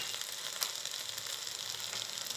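Chicken sautéing with vegetables and spices in a pan for biryani, a steady, close, bright sizzle and crackle that runs without a break, with faint stirring and no talking.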